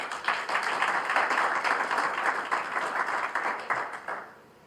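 Round of applause from an audience, a close, lively burst of many hands clapping with a pulsing rhythm that thins out and fades to quiet in the last half second.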